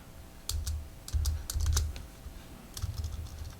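Quick, crisp keystroke clicks from the Bluetooth keyboard case of an iPad Mini 6 come in several close bursts with short pauses between them, heard near and alone without any voices.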